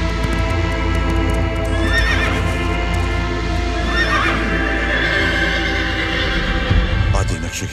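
A horse neighs and whinnies repeatedly over clip-clop hoofbeats as a sound effect in a Bollywood drama film, loud and close with rumbling background music.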